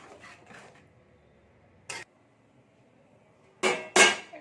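Kitchen clatter while kalmi greens and vegetables are stirred with a spoonful of ghee and a lid set over the pan: a faint scrape early, one sharp clink near the middle, then two louder close metallic knocks at the end.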